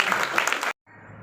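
Audience at a commemorative gathering in a pendopo hall in Blora claps loudly for under a second, then cuts off abruptly to a quieter room hum.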